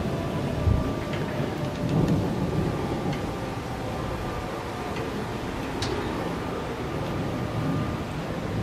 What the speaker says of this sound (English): the thunder strikes.